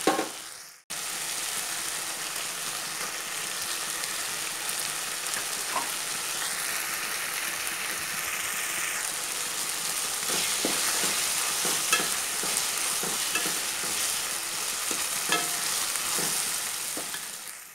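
Tomatoes and ground shallots for masala chicken fry in a pan with a steady, loud hiss, broken by intermittent scraping stirs and light clinks after a brief silent start.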